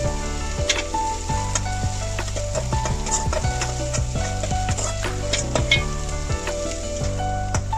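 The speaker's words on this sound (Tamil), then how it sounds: "அதோட பச்சை மிளகாய் சேர்த்து நல்லா வதக்கிக்கலாம்" Onions and green chilies sauté in oil in a pan for village-style mutton gravy, a steady close sizzle with repeated spatula scrapes and clinks against the metal throughout.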